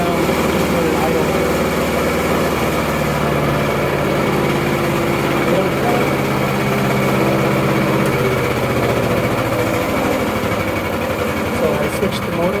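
The small engine of an EFcut C30 shredder runs loud and close with a steady buzzing drone, its pitch easing down as it settles toward idle.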